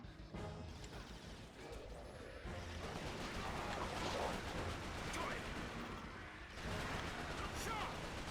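Crashing, rumbling blasts from a backlash grenade going off in a video game, a sustained burst followed by a second swell, heavy and close with a steady roar beneath.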